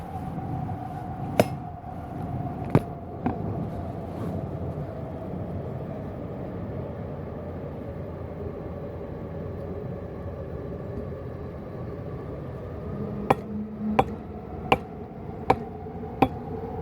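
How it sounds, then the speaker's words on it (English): Hammer blows ring out as sharp, isolated strikes: a few early knocks, then a quick run of five or six evenly spaced hits near the end, over a steady low background hum. "Hammering is a good way to relieve stress."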